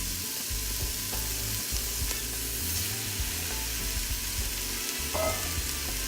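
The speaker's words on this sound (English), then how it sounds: "we're gonna just give them a little slight toast" Rice toasts in a pan with softened onions, giving a steady close sizzle and frying crackle, with faint stirring scrapes and no talking.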